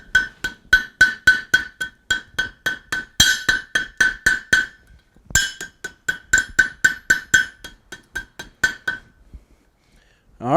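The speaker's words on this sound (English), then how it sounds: "we're going to take our second weld" Rapid hammer blows on hot steel at an anvil while forge welding a campfire blowpipe, a steady run of sharp ringing strikes with a brief pause midway, close and loud.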